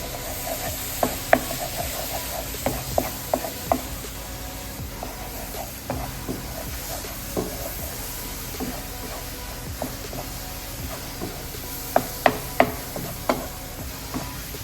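A spoon scrapes and taps steadily through boondi laddu mixture in a pan, with a soft sizzle underneath and scattered sharp knocks against the pan's sides across the whole stretch.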